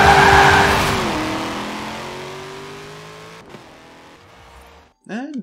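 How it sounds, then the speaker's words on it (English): A mid-engine, rear-wheel-drive car in the Forza racing game breaks traction, its engine note dropping and tires squealing in a long skid that fades, followed by a short sharp screech at the end. "this thing, mid-engine, rear-wheel drive, will love to break traction"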